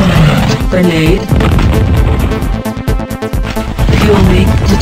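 Explosions in the 1996 PC shooter Fire Fight, heard as loud, dense booms and crashes that go on through the whole span with dips, layered with game effects and a synthetic voice.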